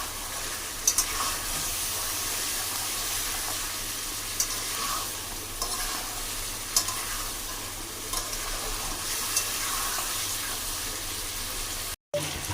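Meat sautéing in a pan with chopped tomato, salt and turmeric, a steady close sizzle with frying crackle and occasional stirring clinks, continuous throughout with no talk.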